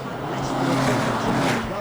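SsangYong race cars circle Snetterton circuit in close formation, a steady engine drone rising and falling slightly, with a commentator's voice running over it.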